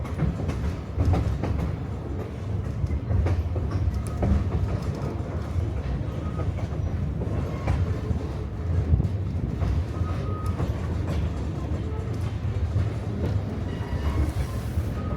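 A mountain tourist train in Leadville, Colorado rolls along with steady clickety-clack from its wheels on the rails, a constant loud rumble and rattle close by throughout.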